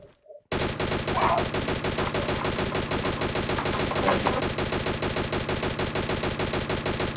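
DP-28 light machine gun firing in PUBG: one long, continuous burst of rapid automatic gunfire, loud and unbroken for several seconds after a brief quiet start.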